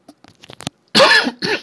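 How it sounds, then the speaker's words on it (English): A person coughs right into a close microphone during a card game session, a few small throat-clearing sounds followed by two loud, harsh coughs near the end. "I did not turn off the mic when I coughed."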